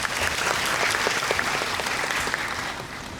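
An audience at a film screening Q&A at the Busan International Film Festival applauds steadily, a dense wash of many hands clapping that holds loud throughout and eases slightly at the end.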